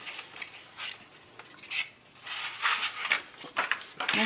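A small piece of lining material is cut for a large album's matching trunk, giving a series of close, soft scraping and rasping strokes in uneven bursts.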